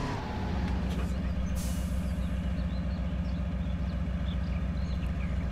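A logging truck's diesel engine idles and works in low steady pulses while maneuvering in the off-road game Spintires, with a brief hiss like an air release early on.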